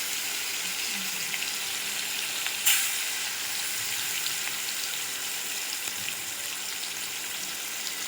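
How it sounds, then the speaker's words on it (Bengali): Fish pieces fry crisp in a pan, a loud continuous hiss of hot oil running throughout with one brief clack near the start, no talking. "এই না মাছগুলোকে বেশ কড়া করে ভাজলাম"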